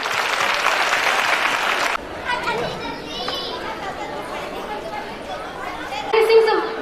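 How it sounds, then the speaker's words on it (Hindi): Clapping breaks out at an annual function, a loud burst of applause from a crowd with children present that cuts off quickly, followed by lively chatter and children's voices. "एक बार फिर तालियां।"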